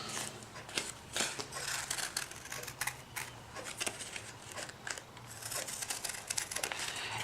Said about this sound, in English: I cut mine freehand because I think they end up looking more natural, and I literally just went in and cut out